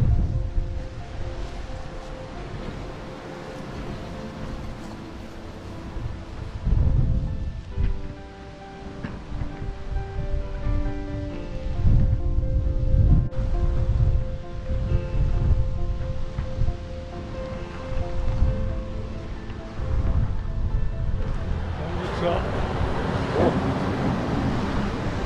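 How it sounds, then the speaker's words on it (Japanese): Juni-daki waterfall in Totsukawa, Nara, rushing as a continuous broad roar of falling water outdoors, steady and fairly loud with some rumbling low-end surges. "十二滝であります。"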